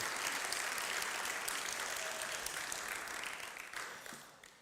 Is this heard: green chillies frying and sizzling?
no